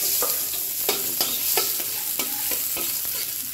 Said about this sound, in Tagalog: Okay, gisa na natin yung bawang.